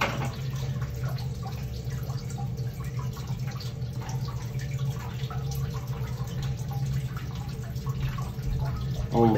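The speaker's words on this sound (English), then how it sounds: "It is draining nicely." Water drains and drips steadily from a freshly made leaf casting, a continuous close trickle over a low background hum with no voices.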